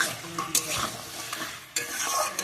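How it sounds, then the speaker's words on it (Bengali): Small river crabs tipped into a hot pan and sautéed over low gas, giving a crackling sizzle with stirring scrapes and a couple of sharp clatters, close and steady. "এবার আমি কাঁকড়াগুলো ঢেলে দিয়েছি।"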